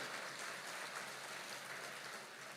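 Crowd applause at a divine court religious gathering in Shivpuri, a dense steady patter of many hands clapping continuously throughout, fairly faint and even with no clear breaks.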